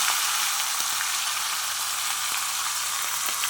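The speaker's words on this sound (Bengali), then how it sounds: "এবার আমি মাছের মাথাটা এর মধ্যে দিয়ে দেবো।" Catla fish head sizzling in hot oil with cumin, a steady dense crackle of frying that holds evenly throughout with faint stirring ticks and no voices.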